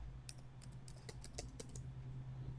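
Light, quick keystrokes on a computer keyboard, a short irregular run of soft clicks over a steady low electrical hum, with no talking.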